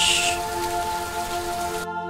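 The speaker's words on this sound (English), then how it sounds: "I love the rain." Steady rain hiss in the video game Superliminal, a continuous wash of falling water with a soft background tone, cutting off abruptly near the end.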